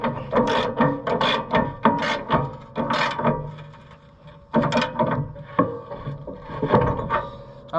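A bolt being tightened during a planter repair, heard as steady repeated ratchet clicks and metal knocks, close and fairly loud, with a short pause midway.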